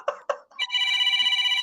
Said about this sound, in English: Answer the phone, Jack.